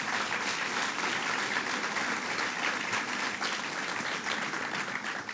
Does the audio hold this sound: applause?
yes